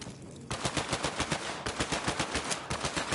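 Rapid automatic gunfire in the shooter video game Borderlands 3, sharp bursts of rattling shots in quick rhythmic succession, fairly close and alone without talk.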